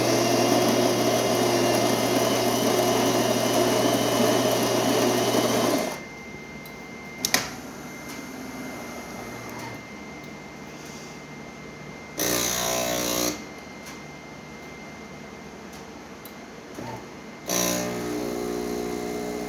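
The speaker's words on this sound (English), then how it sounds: "Let's go ahead and pull a shot." A Delonghi Magnifica espresso machine pulling a shot: a loud grinding, pumping whir for several seconds, then quieter hums and clicks broken by short bursts of buzzing pump noise, with no talking.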